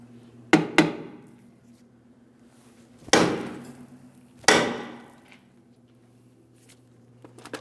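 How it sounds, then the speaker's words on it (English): Hammer blows on a stuck rear brake drum of a 2003-2008 Toyota Matrix: a quick double strike, then two more single heavy metallic hits spaced apart, each ringing briefly, close and loud over a low hum. "if that is the case, you could carefully remove it using a hammer"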